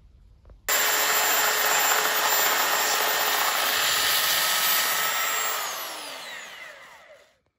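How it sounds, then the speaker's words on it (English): A power sander runs on wood in a steady, loud whine that starts abruptly, holds for several seconds, then winds down as the motor slows to a stop. "Another day of sanding."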